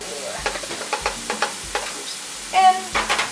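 Minced garlic sizzles quietly in avocado oil in a pan while a utensil scrapes across it in regular strokes, roughly two per second, with a louder clatter near the end.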